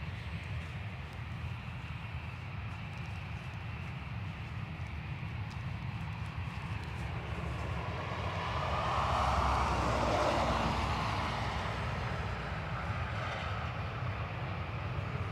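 A Ryanair airliner taking off from Dublin Airport, a steady broadband jet roar at a distance that swells to a peak midway and then slowly fades, with no talk over it.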